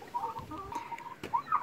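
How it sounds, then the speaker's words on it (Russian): Soft, low clucking and murmuring from meat-breed hens kept in a greenhouse, faint and scattered, with a few short clucks standing out against farmyard background noise. "Вот мясные куры."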